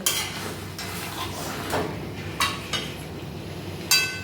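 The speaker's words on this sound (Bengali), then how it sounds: "চিকেনটাকে এইভাবে হাই ফ্লেমে কিছুক্ষণ কষিয়ে নেব" Marinated chicken stir-fried in a pot over a high flame: a steady frying hiss with scraping, stirring and occasional sharp metal clinks of a utensil against the pot, close by with no talk.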